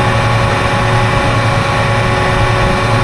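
A tractor engine runs on a cotton farm, a steady, loud, unbroken drone with a deep rumbling hum that holds constant throughout.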